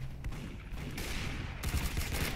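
Rapid gunfire from a Roblox Arsenal match, a dense volley of shots with a burst that gets louder near the end over steady game background.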